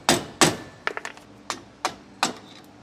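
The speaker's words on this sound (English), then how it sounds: "then I'll set my screwdriver across it, and then I can just hammer the whole thing out" A hammer strikes a screwdriver set against an old leaf-spring suspension bushing on a 2012 Forest River Wildwood travel trailer, about eight sharp metallic knocks at irregular intervals, some close together, loud and up close.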